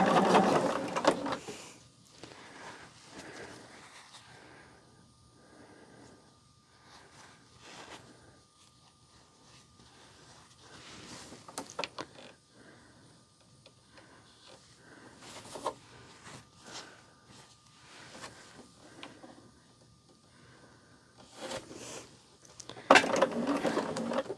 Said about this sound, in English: And once I get all of these sewn, I will take them off and then sew the other side.